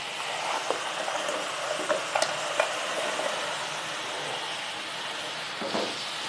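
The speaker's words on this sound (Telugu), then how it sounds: "పీతలు వేసుకొని బాగా కలుపుకొని," Crabs being stirred into a hot pan of sizzling onion and tomato paste for crab curry, a steady hiss of frying with occasional scraping knocks of the spoon.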